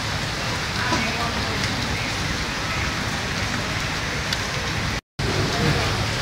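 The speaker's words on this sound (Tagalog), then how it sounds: "Sa ngayon po, umuulan po kasi." Rain falls steadily on a surface outdoors in the Philippines, a dense even hiss with scattered drops, continuous and fairly loud apart from one brief dropout near the end.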